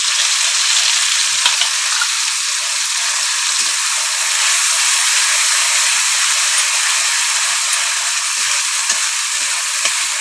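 Mustard, garlic and ginger paste fries in hot oil in a pan, giving a loud, steady high sizzle and hiss with small crackling pops, close and continuous, without talk.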